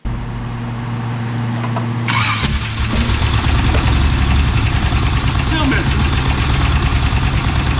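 An old car engine cranks and catches around the two-second mark, then settles into a loud, rough idle that seems to miss on one cylinder, with voices talking over it.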